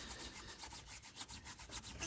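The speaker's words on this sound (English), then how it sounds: "Give that a quick wipe again." A cloth wipes grease off a VW T5 CV joint part in a few quick, close, soft rubbing strokes with a brief scuffing rhythm.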